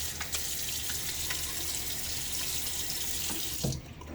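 Water from a bathroom tap runs steadily into a sink for about four seconds while a face is wetted before shaving. The rush is close and even, with faint splashes, then the flow is shut off near the end.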